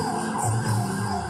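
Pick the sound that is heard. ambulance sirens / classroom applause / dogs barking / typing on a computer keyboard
ambulance sirens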